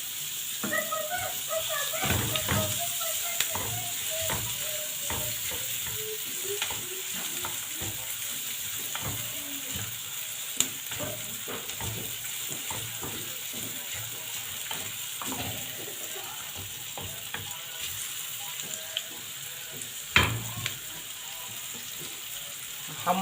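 Ghee melts and sizzles steadily in a pan while freekeh is being prepared, a soft continuous frying hiss broken by scattered clicks and pops and occasional clatter of utensils, with no talking.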